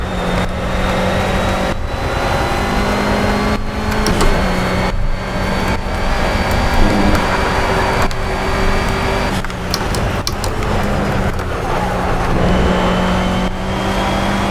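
A Renault Clio Cup race car in the racing game Project Cars revs loud and near, its engine climbing and dropping through repeated gear shifts and lifts across a lap, with no talk over it.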